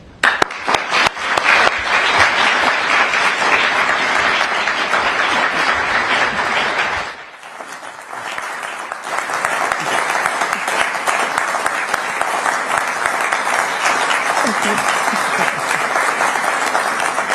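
A conference audience gives a warm round of applause to welcome Conservative Party leader Kemi Badenoch as she takes the stage; loud, dense clapping runs throughout, dipping briefly before swelling again.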